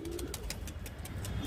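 Pet pigeons flap their wings in quick, repeated bursts while low cooing runs underneath, close by and fairly soft.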